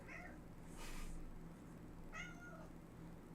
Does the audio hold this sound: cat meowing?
yes